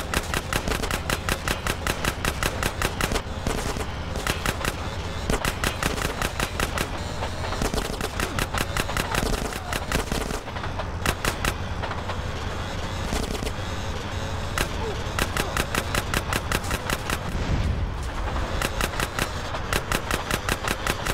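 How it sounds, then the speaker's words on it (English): Rapid automatic gunfire in GTA San Andreas during a drive-by chase, continuous loud bursts of shots over engine noise, no talk. "I'm about to pop these fools. Roll up on him, CJ, so I can get a shot"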